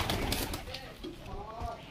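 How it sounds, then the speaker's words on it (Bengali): Short-size Chinese Kaldum pigeons in a pair coo softly and repeatedly at close range, the low calls partly mixed with background noise and a nearby voice. "এই এক পেয়ার শর্ট সাইজ চীনা কালদমা আছে।"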